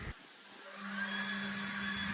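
Leaf blower on a low setting moving leaves off a freshly overseeded lawn, a steady close whooshing roar with a low motor hum that rises slightly and holds.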